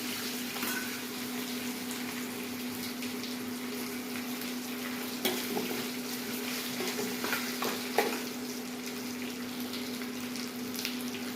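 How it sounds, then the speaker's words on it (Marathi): Peanuts roast and fry in a pan with a steady low sizzle and crackle under a constant hum, punctuated by occasional scraping stirs. "शेंगदाट टाकते छान मस्तपैकी असं खरपूस भाजून घ्यायचं"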